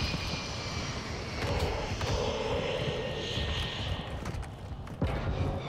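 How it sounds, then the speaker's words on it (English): Call of Duty MW2 ground war on Santa Sena: a low, steady aircraft drone overhead under dense battlefield noise, a constant rumbling wash with a few sharp clicks. "Enemy UAV overhead."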